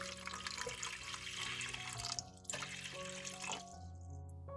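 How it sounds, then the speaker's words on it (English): Water pours steadily into a large cup nearby, a continuous splashing stream that shifts in pitch before stopping. "Pour 60 milliliters of water into a large cup."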